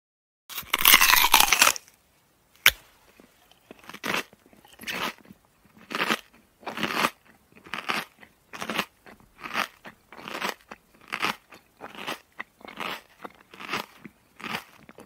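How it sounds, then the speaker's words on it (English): Crunchy Halloween candy being eaten, with a loud crackling wrapper burst at the start, then a steady run of about a dozen close, rhythmic crunching bites, each a short crisp burst, with no talking. "I'm going to eat all of the Halloween and candy."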